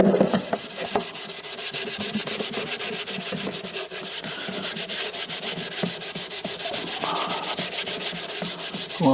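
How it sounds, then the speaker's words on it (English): Wax is rubbed by hand onto an old oak drawer unit, producing close, continuous brisk scrubbing strokes in a fast rhythmic back-and-forth, with no talking. "Right, we'll get it waxed up."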